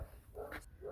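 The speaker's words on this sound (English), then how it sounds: "Sorry about the barking dog in the background." A neighbor's dog gives a couple of quick, muffled barks in the distance, brief and faint behind the outdoor background of a greenhouse build.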